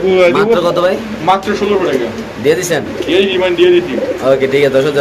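Pigeons coo close by in repeated throaty, rolling calls that overlap one another, mixed with a person talking at a pigeon seller's stall.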